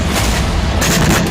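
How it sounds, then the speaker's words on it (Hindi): A Ukrainian sea drone strikes a Russian landing ship. The blast is heard as a loud, dense, continuous rumble with booming surges and no talk. "इसी के साथ ही जोरदार धमाका हुआ, आसमान में बारूदी गुबार उठने लगा"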